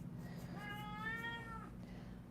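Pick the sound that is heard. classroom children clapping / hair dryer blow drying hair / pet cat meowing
pet cat meowing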